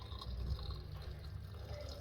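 Hot water is poured into a pot of fava beans, a quiet, steady liquid trickle and fill with faint splashing, heard alone.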